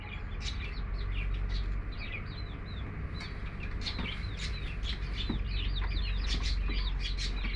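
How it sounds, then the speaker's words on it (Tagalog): Backyard chickens cluck and call repeatedly in a steady scattering of short notes over a low constant hum, moderately distant, with no talking. "Mga manok namin"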